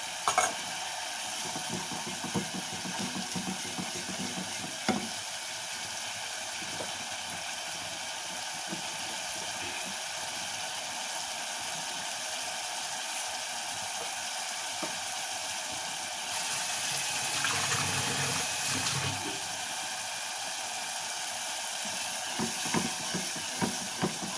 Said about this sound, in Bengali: দিয়ে আবার আমি ওটা ভালো করে কষাচ্ছি।